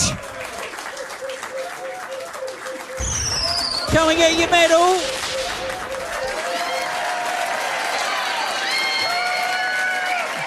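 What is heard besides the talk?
applause for winning quiz team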